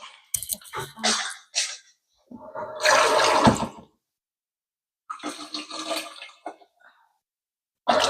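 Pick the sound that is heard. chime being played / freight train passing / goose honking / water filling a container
water filling a container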